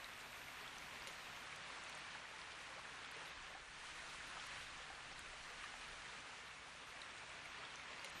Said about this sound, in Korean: 봄비가 추적추적 내리는 밤이에요.